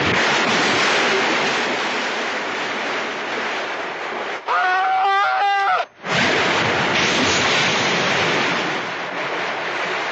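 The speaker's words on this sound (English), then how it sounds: "Listen! Henry, it sounds like a waterfall!" Steady roaring rush of falling water from a waterfall fills the scene, loud and continuous, briefly broken by a short burst of sound before the roar resumes.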